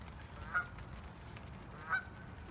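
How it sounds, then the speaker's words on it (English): Geese honk twice, spaced well apart, near a carp-fishing lake where a swan is harassing them, over a steady low outdoor background. "Swan's been bullying the geese. In fact, it's doing it again now."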